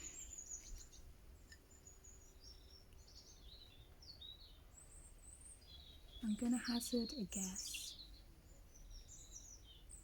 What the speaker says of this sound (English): that they're some sort of tit.